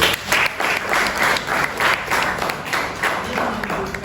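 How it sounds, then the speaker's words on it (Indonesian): Applause from a classroom group rings out in uneven bursts of hand clapping for about four seconds, loud and close, rising and dipping in waves. "Kita berikan aplaus ya"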